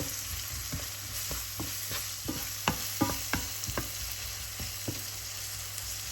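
Onions softening in a pan with a little salt, stirred now and then, give a steady low sizzle with scattered soft scrapes and taps from a spoon, close and moderately quiet, with no talking.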